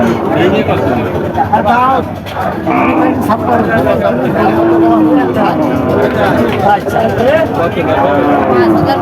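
Cattle lowing at the busy Barobazar cattle market in Bangladesh, with moos rising over steady crowd chatter and haggling voices throughout.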